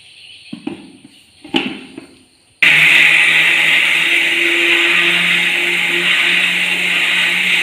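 A kitchen mixer grinder starts up abruptly and runs loud and steady, grinding a paste of ingredients after a few handling clatters, with the motor whine continuing unbroken to the end.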